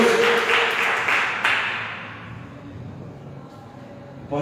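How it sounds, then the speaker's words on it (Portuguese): A church congregation applauds during a worship service, a dense wash of clapping that is loudest at the start and fades steadily to a quiet, sparse patter. "Dê uma salva de palmas ao Senhor"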